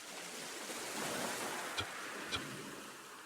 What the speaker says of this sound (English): Even the sound of the waves feels more distant,